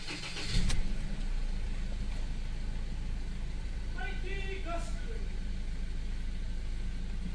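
A Ford Ranger's engine cranks and catches with a short burst near the start, then settles into a steady idle hum, with a few brief chime-like beeps partway through.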